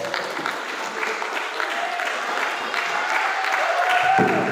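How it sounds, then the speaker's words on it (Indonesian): Applause for all the teams at a quiz contest: a moderate, continuous spatter of clapping from a room, fairly soft and swelling slightly toward the end, with light murmuring underneath. "Angkat tepuk tangannya untuk semua Regu"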